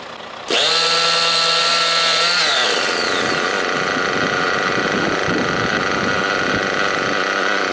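A new glow-plug model engine fires up abruptly and runs at a loud, high-pitched whine that shifts pitch and settles into a steady buzzing drone.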